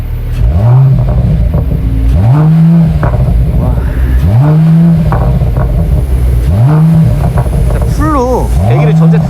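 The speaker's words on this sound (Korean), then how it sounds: "가변을 열었을 때는 진짜 이제 고급스러운 팝콘 배기음, 그 다음에 AMG다운 배기음이 잘 나오고요" A Mercedes-AMG CLS53 with an FI exhaust system, valves open, revs sharply five times in a steady rhythm, each rise ending in crackling pops, loud and close.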